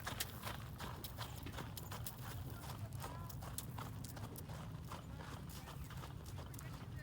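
A horse's hooves clip-clop in a steady, fairly quick rhythm throughout, close and moderately loud, with occasional soft background noise.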